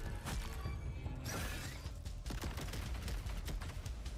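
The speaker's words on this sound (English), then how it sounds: "It's shooting beams out its ass." Sustained gameplay barrage from a video game creature firing beams, a dense rapid crackle of blasts and impacts with a sharp burst near the middle, continuous and loud with no talk over it.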